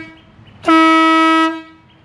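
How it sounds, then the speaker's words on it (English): A loud train horn newly fitted to a motorhome rig gives one sustained, steady blast of a bit under a second, starting abruptly and cutting off cleanly, with quiet surroundings before and after. "I've put a train horn in it."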